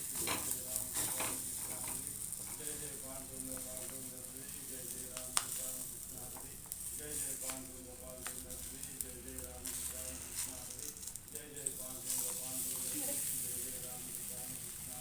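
Rice roti (akki rotti) sizzling on a hot griddle, a soft steady frying hiss broken by faint clinks and scraping, with a voice talking over it.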